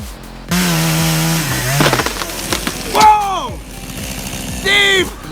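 A chainsaw cutting a tree during tree work off a ladder, the engine droning steadily then revving and bogging in rising and falling whines as it bites, with shouting voices and cracking wood mixed in.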